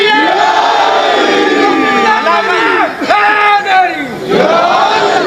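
A large crowd at a religious gathering in Lahore chants loud, rhythmic religious slogans such as Naara-e-Takbeer in unison, with rising and falling shouted phrases repeating in waves, close and forceful.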